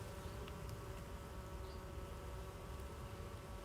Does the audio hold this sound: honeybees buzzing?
yes